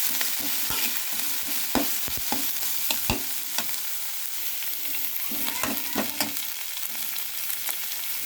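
Oats cutlet mixture with coriander and mint fries in a pan with a steady sizzle, while a spoon scrapes and stirs in irregular knocks and scrapes, close up and without speech.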